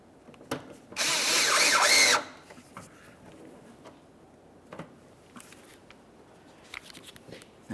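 A power drill drives headlight mounting screws into a Toyota Sienna, one loud whirring burst of about a second, followed by quieter clicks, taps and handling noises.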